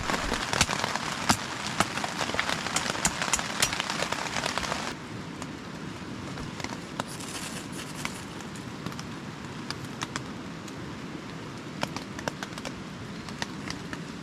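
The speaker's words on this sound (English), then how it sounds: "it's dumping rain" Heavy rain pours onto tarps at a winter backpacking camp, a dense steady patter with scattered sharper drops. It is louder for the first few seconds, then continues a little softer, with no talking.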